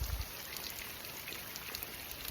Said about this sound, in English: Raining a little bit harder than anticipated